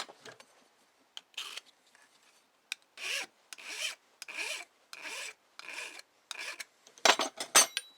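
A metal file clogged with aluminum is scraped against soft copper in a series of short, close rasping strokes, a steady back-and-forth that ends in a few quicker, harsher passes.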